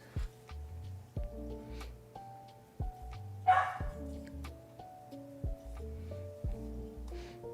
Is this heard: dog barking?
yes